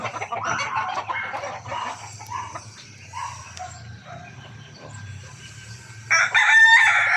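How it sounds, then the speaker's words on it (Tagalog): Chickens cluck and rustle nearby, and a rooster lets out a loud crow near the end. "Ito, mga manok."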